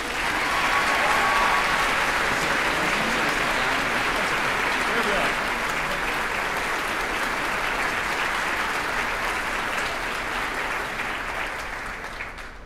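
A concert hall audience at a choral event applauds a performer, sustained loud clapping from many hands that holds steady and fades slightly at the close.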